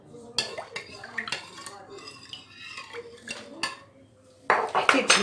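Spoon or utensil mixing yogurt, salt and sugar with flour in a bowl, close clinks and scraping knocks against the bowl in irregular bursts, louder and busier toward the end, with a voice speaking at times.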